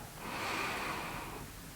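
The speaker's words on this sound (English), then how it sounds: "breathing in" A single slow, audible inhale through the nose during a slow evening yoga flow, close and breathy, swelling and then easing off over about a second and a half.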